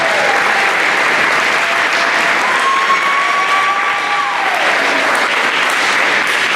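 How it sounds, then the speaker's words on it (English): Loud, continuous applause from a banquet audience for a high school junior football class, dense clapping with a faint whistle-like tone rising above it midway. "one more big round of applause for our junior class"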